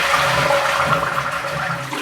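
A toilet flushes with a loud, steady rush of water swirling close by, continuous throughout with no speech.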